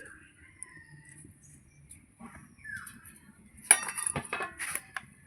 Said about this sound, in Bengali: এবার আমি এই যে ঢাকনাটা তুলে নিচ্ছি